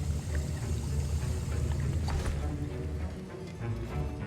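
A potion is stirred in a cauldron in Hogwarts Legacy: a soft, continuous liquid sloshing and swirling over a low, steady rumble, fairly close and even throughout.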